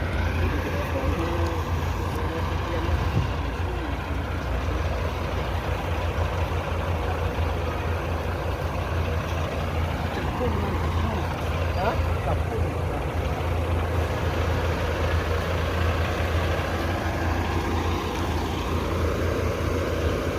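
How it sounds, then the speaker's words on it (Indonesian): Al Hijrah tronton bus engine idling with a steady low rumble throughout, constant and fairly close, with faint background activity. "Ini bus"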